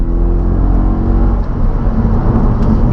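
An Audi RS4's 420-horsepower V8 revs hard with a loud, deep, continuous rumble and roar close to the exhaust, rising and surging without a break.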